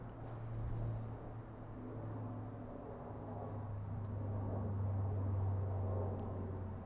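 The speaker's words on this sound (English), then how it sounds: "I think there's a bit more noise now from cars." Low, steady traffic rumble from passing cars hums continuously in the background, fairly faint and distant, heard through a lavalier microphone outdoors with no talk.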